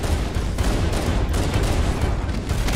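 Rapid gunfire crackles without a break in a co-op Halo: Combat Evolved level in the Library, loud dense bursts layered over low booms and rumble, with no talk.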